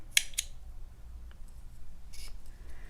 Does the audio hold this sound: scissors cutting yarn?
yes